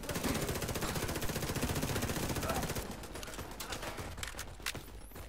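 Rapid automatic gunfire in the video game Tom Clancy's The Division rattles in dense bursts for about three seconds, then thins to scattered sharp shots and clicks.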